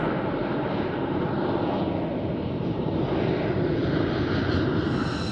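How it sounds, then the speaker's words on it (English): A B-2 Spirit flying wing aircraft gives off a steady, loud, broadband engine roar that holds without a break, with no voices. "The B-2 Spirit is a plane that has set numerous records."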